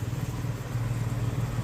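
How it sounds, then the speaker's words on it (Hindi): A motorbike engine runs with a steady, low rumbling drone close by, with no pause or change in pitch, on a road trip toward the Narela garbage mountain. "चलिए दोस्तों, चलते हैं हम आगे और करते हैं अपनी बाइक स्टार्ट"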